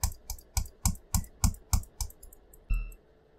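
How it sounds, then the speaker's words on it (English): Rapid run of about nine crisp, close clicks in an even rhythm, then one heavier click, from a computer mouse being left-clicked while playing a horror game, with no talking. "I am left clicking."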